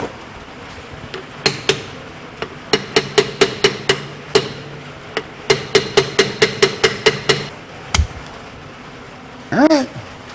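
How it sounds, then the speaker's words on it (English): A hammer strikes brake parts on a 1972 VW Super Beetle during a brake service, delivering rapid runs of sharp metallic blows close by in two long bursts, followed by a brief squeaky sound. "Where's my half-inch drive hammer?"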